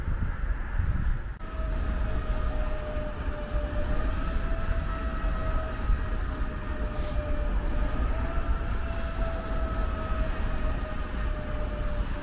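A Russian Railways train rolls slowly into a terminal station, a low steady rumble with a sustained whining tone drifting in pitch above it, continuous and fairly close.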